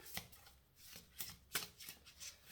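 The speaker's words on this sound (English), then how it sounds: "I just feel like I can't shuffle today." Playing cards being riffled and shuffled, with several quick papery bursts and soft snaps at an irregular pace, close up and fairly quiet.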